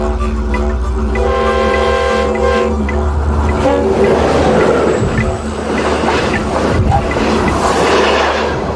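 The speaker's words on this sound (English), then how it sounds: "A train rushes past and we all turn to watch" A train rushes past nearby: a steady mechanical drone swells into a loud, continuous rushing clatter.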